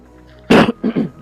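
A single sharp cough from a man with a congested nose, followed by a softer double cough, close and loud, with quiet background.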